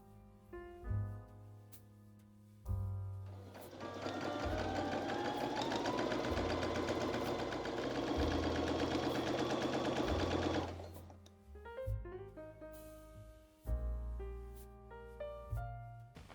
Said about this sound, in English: Place the front and back piece right sides together and sew the side seams.